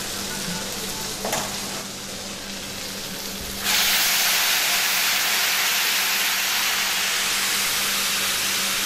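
Pine nuts and apple pieces toast in a hot pan, giving a steady close sizzle that jumps to a louder, brighter frying hiss partway through, with faint stirring clicks early on.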